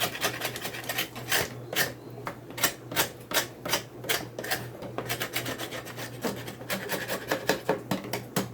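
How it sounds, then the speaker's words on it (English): A hive tool scrapes propolis off the top bars of a beehive frame, giving a steady series of close, rasping strokes in a regular back-and-forth rhythm. "And just scrape off the top. Propolis on the top here."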